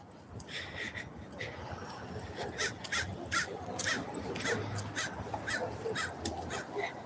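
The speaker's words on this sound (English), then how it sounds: "Look at all the crows." Numerous crows cawing repeatedly around a California street lined with palm trees, sharp calls arriving in irregular bursts at moderate distance over steady outdoor background noise.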